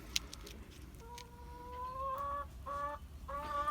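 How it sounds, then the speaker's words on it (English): Laying hens, one of them a small brown hen, cluck close by in a series of short, rising calls that grow more frequent, with faint scratching and pecking between them. "I'm giving some crushed eggshells back to these hens"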